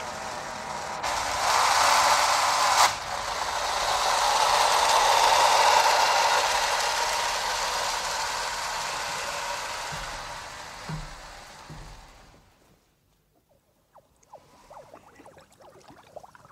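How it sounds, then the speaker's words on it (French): A submarine engine in an animated adventure hums loud and steady with a rattling mechanical texture, then winds down and cuts out, leaving near silence broken by faint small clicks. "Le moteur s'est arrêté, nous n'avançons plus."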